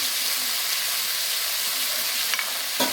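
Steady, close sizzle of salt and a generous pinch of nigella seeds frying in hot oil in a pan, continuous throughout with a couple of faint clinks near the end.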